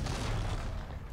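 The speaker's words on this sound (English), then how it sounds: "Boom, biotic explosion." A biotic explosion in the video game Mass Effect 3 lands as one short, loud, muffled boom that fills the clip and tails off briefly.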